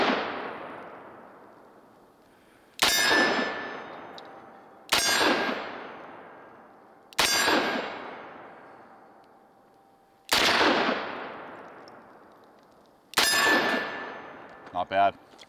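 A Smith & Wesson 586 Classic .357 Magnum revolver is fired one-handed: five loud, sharp shots spaced a few seconds apart, each with a long ringing decay, followed by faint metallic clicks.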